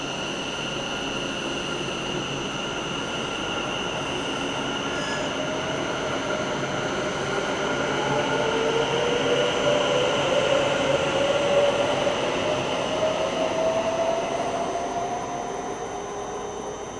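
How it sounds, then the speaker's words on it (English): A West Midlands Railway passenger train rumbles steadily out of Cheddington station, its noise swelling then easing, with a rising wheel squeal and high electric whine throughout; no voices. "Let's watch this West Midlands Railway train depart on its way."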